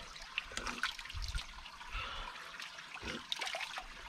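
Water trickles and gurgles faintly at an old well on a rocky plateau, with soft irregular splashes and dribbles against a quiet outdoor background.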